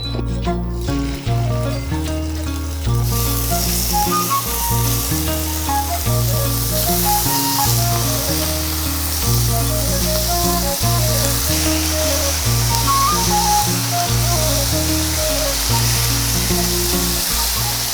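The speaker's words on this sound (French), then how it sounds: "Maintenant, je vais passer à la cuisson de la volaille" Poultry sizzles as it cooks in a pan, a loud, steady frying hiss that swells after a quieter start and runs on over a low, steady tonal hum.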